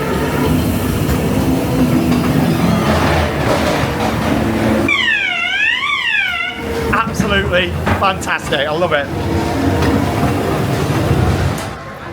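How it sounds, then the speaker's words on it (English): A classic ghost train ride at Blackpool Pleasure Beach rolls along its track with a steady rumble, broken by a swooping, warbling spooky sound effect, while someone talks over it close by. "Doesn't get much better than a classic ghost train, does it?"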